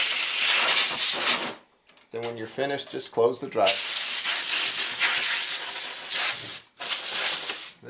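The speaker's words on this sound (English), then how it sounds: "you can open the drive and then you can spray air inside" Compressed air sprays into an open computer drive in long loud hissing blasts, broken by short pauses, with someone speaking briefly during one gap.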